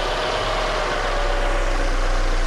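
A car engine idles with a vacuum leak, a steady, close, continuous hum with a faint whistling tone over a low rumble, unchanged throughout and without any talk.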